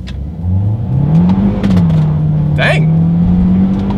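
A 2022 Kia Soul pulls hard from first gear, its engine drone climbing then dropping briefly as the paddle shifters snap through a quick upshift before the pitch rises again, with a short spoken exclamation partway through.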